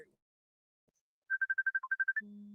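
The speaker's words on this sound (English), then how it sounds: "Hold on, my phone's ringing." A phone ringtone plays a quick run of about ten evenly spaced electronic beeps, clear and fairly close, followed by a low steady hum, with no one speaking.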